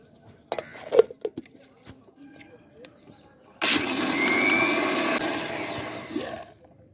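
A kitchen mixer blends bael fruit sherbet with a little sugar and salt, switching on abruptly after some light handling clatter and whirring loudly and steadily for about three seconds before stopping.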